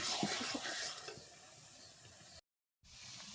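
Taro leaves stir-fried with a hilsa fish head in a pan, giving a soft sizzling hiss with a few scraping stirs early on and a brief dropout near the end.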